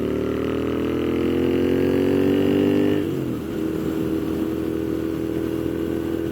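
A 2015 Moto Guzzi V7 mk2 750cc motorcycle pulls hard with rising engine pitch, then shifts and settles into a rougher steady drone, heard up close.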